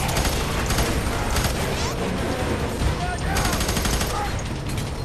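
Rapid gunfire in the video game FEAR 3, dense, loud bursts of shots continuing without a break, with a voice under the shooting.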